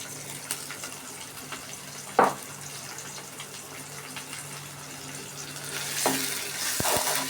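Duck meat sizzles in a pan with ginger and garlic paste, a steady frying hiss broken by a sharp scrape of the spoon, then swelling louder toward the end with a few knocks.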